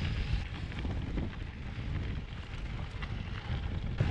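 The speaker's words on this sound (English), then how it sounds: "today it is windy as f***" Strong wind buffeting a microphone outdoors by a road, a loud continuous rumbling roar with gusty swells throughout and no speech.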